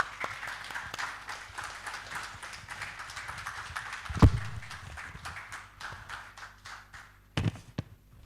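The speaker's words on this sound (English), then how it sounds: "Please give a round of applause to our panelists." Audience applause for panelists at a power-sector dialogue event, a crowd clapping that thins out over several seconds, with a few louder thumps near the microphone.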